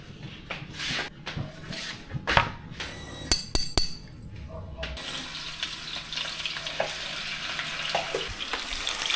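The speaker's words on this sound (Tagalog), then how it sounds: "So, I'm cooking 4 strips of the marinade." Four strips of marinated meat sizzle and fry in a pan, a steady close hiss with a few clinks of a utensil partway through, then the frying grows brighter and louder.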